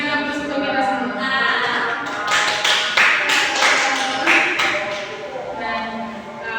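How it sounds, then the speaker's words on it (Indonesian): Applause from a group closing out a classroom quiz on Islamic jurisprudence, with steady dense patter of hands sustained throughout and sharper bursts near the middle, close and fairly loud. "Kita berikan aplaus untuk kita semua"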